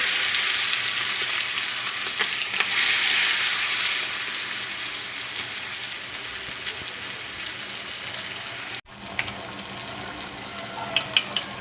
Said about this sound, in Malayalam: കൊഞ്ചൂടെ ഫ്രൈ ചെയ്യാനിടാം